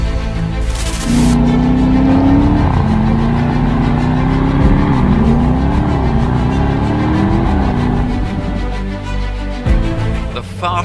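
A Lister Stealth SUV, a higher-powered build of the Jaguar F-Pace SVR, revs loudly and close with a rising and falling engine note held for several seconds, easing off near the end with no talk.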